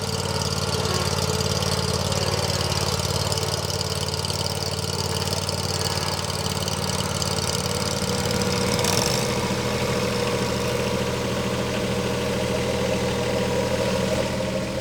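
A John Deere ZTrak zero-turn lawn mower engine runs steadily and loud throughout, a constant mechanical drone that shifts pitch slightly partway through.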